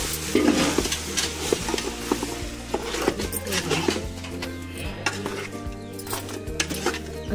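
Mangoes and spices are stirred and sautéed in a pan, with frequent scraping and clinking of a spoon against metal over a steady low sizzle, busy and close, with no speech.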